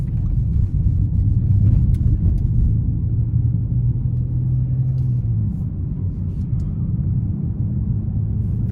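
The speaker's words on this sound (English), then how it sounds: "So the tires are on the loud side" A 2023 Audi S7 with a 2.9 twin-turbo V6 cruises on the road, filling the cabin with a loud, constant low rumble of tire noise that stays steady throughout, with no talking.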